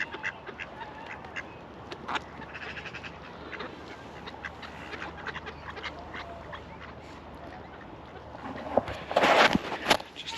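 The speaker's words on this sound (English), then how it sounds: "Hello ducks." Ducks quack outdoors, with a louder burst of quacking near the end over steady background noise and a few footsteps.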